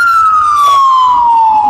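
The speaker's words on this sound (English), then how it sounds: "There's a lot of ambulances going by tonight." A loud ambulance siren passes by outside near a hospital at night, its steady wail gliding slowly downward as it goes by, with no talk over it.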